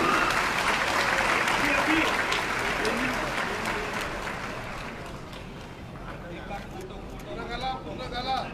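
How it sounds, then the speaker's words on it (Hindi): Applause from a crowd at a Shiv Sena gathering in Silvassa, welcoming Aditya Thackeray with flowers; dense, steady clapping that gradually thins, with voices mixed in throughout. "जोरदार तालियों का स्वागत हो जाए।"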